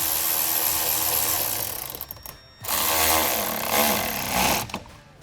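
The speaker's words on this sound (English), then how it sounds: "Then after that, you may tighten your other hose clamps." Power tool tightening hose clamps on an Eventuri intake for a C8 ZR1, loud whirring bursts with a ratcheting buzz, briefly stopping and then starting again close up.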